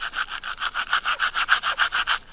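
A handful of dry campfire wood rubbed and broken up against a slightly damp rock, giving a steady rhythmic rasping of about a dozen quick scraping strokes, close and fairly loud with no talk.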